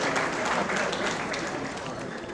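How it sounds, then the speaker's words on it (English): An audience at an evening event for a vice president bursts into dense, steady applause, a close wash of many hands clapping that stays fairly even and tapers slightly toward the end. "A round of applause for Omotola, ladies and gentlemen."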